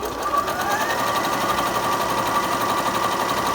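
A Bernette b37 sewing machine runs a zigzag stitch, a fast, even mechanical whirring and rapid needle chatter held steadily for several seconds, close and fairly loud.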